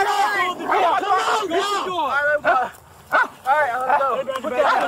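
Police K9 dog barking during the arrest of an escaped Florida felon, a few barks mixed into loud shouting and screaming from people nearby, mostly masked by voices.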